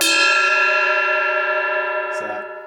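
Custom Murat Diril ride cymbal struck on its lathed bell, giving a single bright, loud ringing ping with a long sustained wash of overtones that slowly decays, close and alone.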